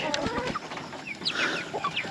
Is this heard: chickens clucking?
yes